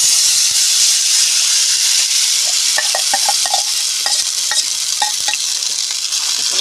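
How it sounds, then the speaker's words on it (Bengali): A potato and semolina batter with cumin is stirred in a hot pan, producing a loud, continuous close sizzle and hiss. Scraping and tapping strokes from the stirring run through the middle of the clip, with no talk. "এটা একটু নেড়ে চেড়ে আমি একটা ডো বানিয়ে নেব।"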